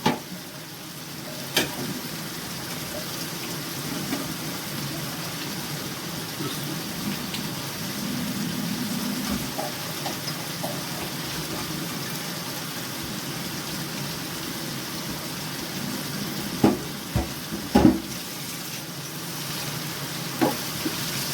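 Mixed vegetables for samosa filling frying in a pan with fresh coriander, a steady soft sizzle with occasional sharp scrapes and clinks of a spoon stirring.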